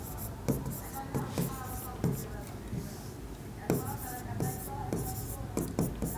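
A pen scratches on paper in short strokes during an accounting lesson, with distinct taps and scrapes spaced a second or so apart, close and moderately loud.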